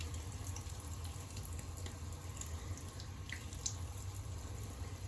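Tap water runs steadily into a bathroom sink as a face is wetted before a razor shave, a close, continuous splashing hiss with no talk.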